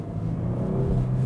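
A Genesis G70 accelerates hard with its wheels spinning, the engine note rising in a steady, close rumbling roar for about a second with no voices.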